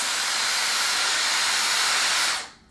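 A Dyson Airstrait hair straightener blows a loud, steady rush of air at close range, then cuts off abruptly near the end.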